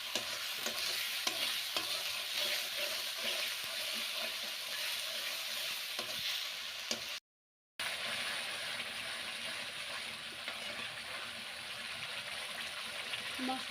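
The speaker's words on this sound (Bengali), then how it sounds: "মশলাগুলো 2-3 মিনিট ভালোভাবে কষিয়ে নিয়ে তারপরে হলদি মরিচ এগুলো দিয়ে দেবো।" Spices for a poultry chicken curry are stir-fried in oil, giving a constant close sizzle with scraping stirring strokes that runs on steadily, broken by a brief silent gap midway.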